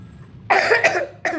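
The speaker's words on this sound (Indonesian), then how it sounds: "Sorry, malah jadi batuk." Two close coughs in quick succession, then a third shortly after, from one person, loud and alone against a quiet room.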